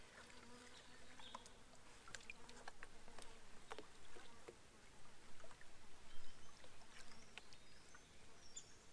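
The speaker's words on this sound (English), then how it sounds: "And there's always the flies, of course" Faint insect buzzing drifts in and out over a quiet outdoor background, with a few soft bird chirps now and then.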